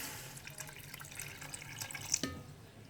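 Water poured from a glass into raw minced beef in a cooking pot, a soft, faint trickle and splash with a small drip or clink near the end, no voices.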